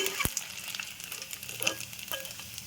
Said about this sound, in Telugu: ఈ విధంగా వేసుకోవాలండి మెత్తళ్ళు ఆయిల్లో